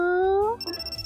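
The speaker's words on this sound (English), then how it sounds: "It's a call from a client." Phone ringtone from the visual novel G-Senjou no Maou, a bright electronic tone with rising pitch, loud and close, breaking into a pulsing, warbling ring.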